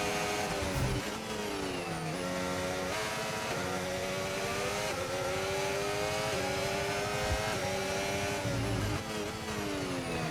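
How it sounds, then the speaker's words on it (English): A McLaren Formula 1 car in the F1 25 racing game accelerates hard, its high-pitched engine whine climbing through gears with brief dips at each shift, loud and continuous throughout. "Look how fast that McLaren's gonna get out"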